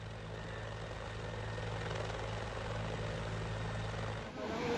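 A helicopter flies overhead near Gauchar in poor weather, a loud continuous rotor and engine roar that holds steady, then dips and shifts near the end.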